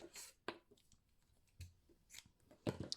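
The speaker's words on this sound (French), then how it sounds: "Je peux couper le fil." Scissors snip through crochet yarn in a handful of quick, close cuts, quiet and crisp, separated by short pauses with faint rustling.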